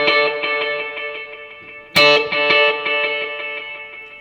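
Electric guitar through dotted-eighth and eighth-note delays on a Kemper Profiler, repeating echoes forming a galloping rhythm, with a fresh strum midway that rings out in overlapping repeats.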